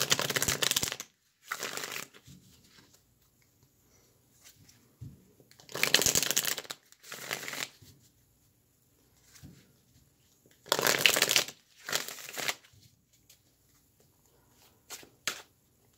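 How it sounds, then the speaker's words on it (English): Tarot cards are shuffled in several short riffling bursts separated by quiet pauses, close and crisp, with no talking. "I'm shuffling the cards"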